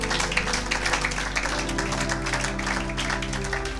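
Applause during a church service, with steady clapping over a sustained organ or keyboard chord and faint voices, continuous and moderately loud throughout.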